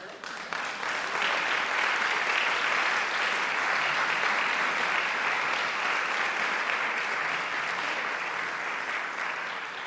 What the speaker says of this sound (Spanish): n'hi ha que aplaudir això